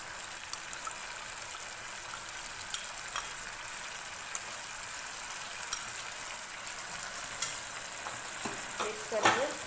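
Yogurt paste is stirred into a sizzling tomato masala for tandoori chicken, a steady close frying hiss broken by soft scrapes and clicks of the spoon, with a brief louder scrape near the end.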